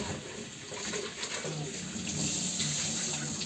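Tap water runs steadily into a sink as the water for Chinese New Year flowers is changed, a continuous close splashing stream with no talking.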